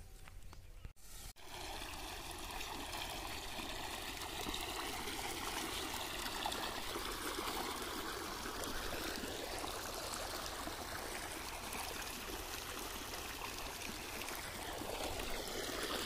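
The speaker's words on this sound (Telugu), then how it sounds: "నీళ్ళు పారుతూ ఉన్నాయండి మా తోటలోకి" Steady, continuous rush of water flowing through an irrigation channel into a farm plot, fairly soft and unbroken, with a brief bump of handling noise at the start.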